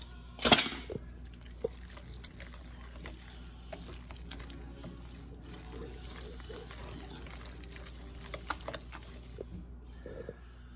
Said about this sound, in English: now I'm going to add just a little bit more water because I want to loosen it up just a little.